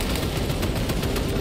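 Dense gunfire in Warhammer 40K Space Marine 2, a loud, continuous barrage of rapid shots filling the whole moment with no pauses.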